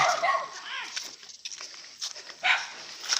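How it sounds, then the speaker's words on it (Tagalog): Several dogs bark and yip at a moderate distance, in scattered bursts along a rural path, with some background voices and movement. "Ang daming aso."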